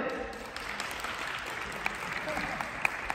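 Spectators at a blind football and para-sports experience event clap to vote for a player, moderate scattered applause at a distance throughout.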